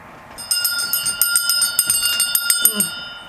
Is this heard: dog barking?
no